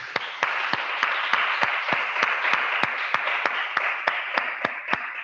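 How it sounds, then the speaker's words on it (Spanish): Applause from a group at a teacher-training talk: a soft, continuous patter of clapping with a few sharper, distinct claps standing out close by, steady and moderate in volume throughout. "pues yo creo que se merece un aplauso, ¿no?"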